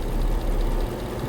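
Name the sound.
Dodge Durango 5.7 Hemi engine running with tick or exhaust leak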